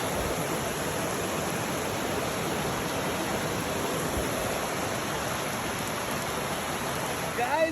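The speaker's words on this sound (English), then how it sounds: "Look at our waterfall." Lower Doyles River Falls in Shenandoah roars as a steady, broad rush of falling water, loud and continuous nearby, with faint voices briefly audible at the end.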